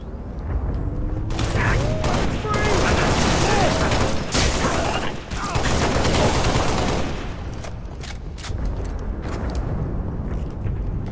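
Grenades go off in a Halo: Reach battle: loud booming blasts and crackling bursts of gunfire pile up in a dense, chaotic stretch, with game voices and mechanical clatter mixed in before the noise thins toward the end.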